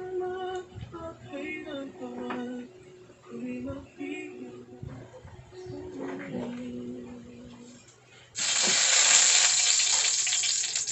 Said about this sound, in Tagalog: Ay, mag-prito muna ako ng meatloaf.